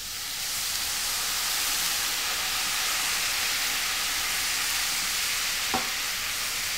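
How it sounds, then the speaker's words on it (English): A hot pan of bayou-style shrimp with shrimp heads hisses and sizzles steadily after a splash of Spanish sherry deglazes it, a loud, continuous broadband fizz close by, with one brief sharper clatter near the end. "we're going to deglaze the pan with some Spanish sherry"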